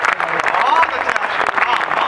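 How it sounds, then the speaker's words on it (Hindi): An audience at a Hindi poetry recital breaks into applause, a brief wash of clapping heard together with a voice carrying over it. "अब इन तालियों को मेरी ताल में बदलिएगा"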